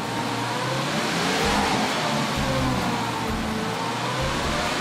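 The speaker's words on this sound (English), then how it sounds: "slowly rev it up." A 2008 Porsche Boxster engine revved slowly in a shop, a steady close mid-pitched hum that rises gently and holds, with no voices over it.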